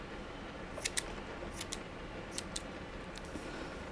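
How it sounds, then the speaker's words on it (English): Scissors snip through cheesecloth while paper bags and tags are being altered at a crafting table, giving several short, crisp paired cuts spaced across the stretch, fairly faint over a steady background hiss. "Do have some cheesecloth. Just cut some of this off."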